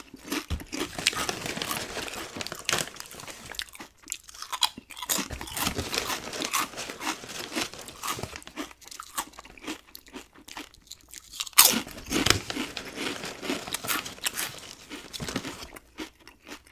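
Cape Cod kettle chips crunched and chewed close to the mic, with bursts of loud, crisp crunching, bag crinkling and brief quieter pauses between bites.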